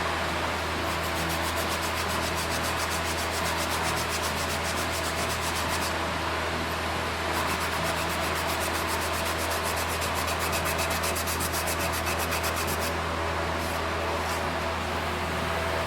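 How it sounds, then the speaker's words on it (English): Steady abrasive scrubbing with a Scotch-Brite pad on an old 1980-dated part, a continuous close rubbing hiss with rhythmic strokes that pause briefly mid-way, no talk. "let me get a Scotch-Brite"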